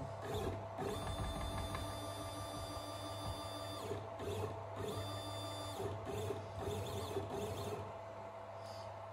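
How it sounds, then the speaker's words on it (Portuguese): A homemade Arduino mini CNC router running GRBL 0.9 zeroes its axes with a continuous stepper-motor whine and whir, broken by several brief pauses and shifts in pitch as the axes move in turn. "Primeiramente vamos zerar a máquina, né?"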